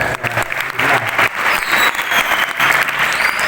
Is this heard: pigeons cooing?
no